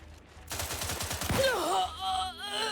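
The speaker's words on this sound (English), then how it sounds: "Who's still shooting?" Gunfire in the video game The Outer Worlds 2: a rapid burst of shots in the first half, then whooshing, wavering synthetic effects and faint game sounds.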